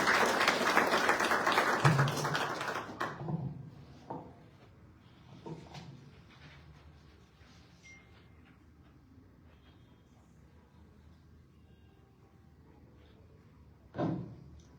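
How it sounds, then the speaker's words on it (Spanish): An audience at a book presentation held at a chamber of commerce in Ancash bursts into loud, dense applause for about three seconds, then it quickly dies away into a quiet room with a few scattered knocks and one short thump near the end. "Lo recibimos con fuertes palmas al ingeniero Miguel Mejía Rodríguez"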